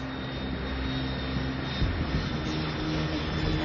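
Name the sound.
airplane flying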